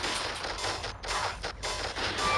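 A triple barrel pistol firing in the mobile shooter Respawnables, loud, dense shots in quick succession with short pauses, overlapping game noise and no talking.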